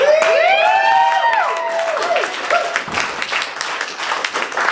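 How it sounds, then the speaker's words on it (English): Applause and cheering break out from an audience at a Chicago winter ball dialogue event, loud and sustained, with bright shouts and whoops rising over the steady clapping. "Let's give it a round of applause."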